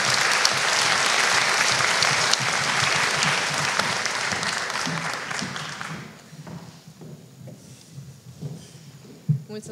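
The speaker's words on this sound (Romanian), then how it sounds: "Încă o dată, aplaudați-o," Audience applause at a university chemistry graduation ceremony, dense and loud for about six seconds before thinning into scattered claps and light crowd noise.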